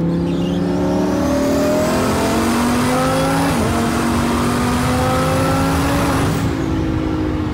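A Lamborghini engine revs and accelerates loudly and up close, with a rising, sustained roar that climbs in pitch, briefly dips, then climbs again before easing off.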